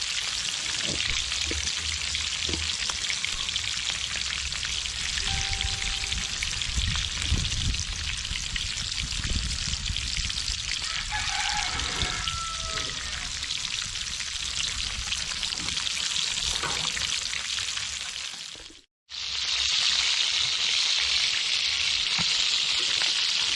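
Bonita fish fry in hot oil outdoors, a loud dense crackling sizzle that runs steadily, broken by a brief dropout near the end before the frying noise resumes.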